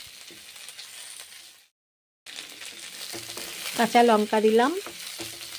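Mung dal frying in a pan with grated ginger and green chilli, a strong continuous sizzle that drops out briefly and then returns louder, with a voice speaking over it.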